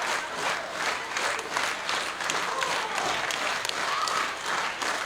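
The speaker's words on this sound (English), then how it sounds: "all these fans stomping and clapping" Wrestling fans at an Ultimate Championship Wrestling live event stomping and clapping in a sustained, rhythmic, loud wash of applause filling the arena, with no clear voice above it.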